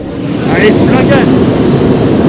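A hot air balloon burner fired at full gas gives a loud, steady roar that swells and holds, with faint voices in the background.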